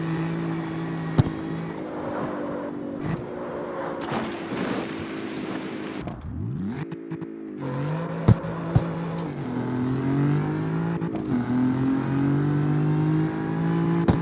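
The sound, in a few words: race car engine revving with straight-cut gearbox whine, CarX Street video game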